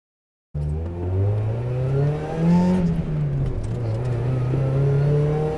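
A Mazda Miata's noisy, buzzy engine revs up and holds a strained drone that rises and dips in pitch, heard close and loud with no talking.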